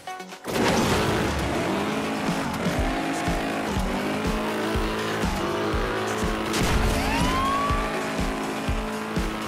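Car in a driving video game revving hard and skidding, engine tones rising and falling with repeated rhythmic thumps and a sharp tire squeal near the end, loud and continuous.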